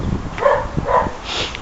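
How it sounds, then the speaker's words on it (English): A dog barks outside a small backyard gym shed, two or three clipped, mid-distance woofs in a loose rhythm over a low background hum. "and that's a dog barking,"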